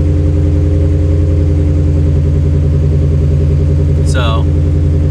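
A Ford Mustang S550 engine runs loud and close, holding a steady, even drone throughout with no clear climb in pitch.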